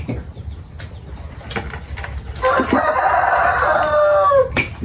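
A rooster crows loudly in one long drawn-out call over steady background noise, with a few faint sounds before it.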